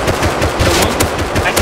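Rapid automatic rifle fire from an AK in the survival game Rust, loud, dense bursts of repeated shots throughout with little pause.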